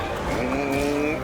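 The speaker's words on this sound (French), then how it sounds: "C'est le bruit de la voiture." A smooth, rising electric car motor whine in the video game Fortnite hums steadily for a moment, like a vehicle accelerating, clear and close.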